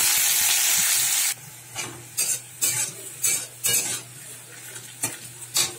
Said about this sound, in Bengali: এই পেঁয়াজটা ভেজে নিচ্ছি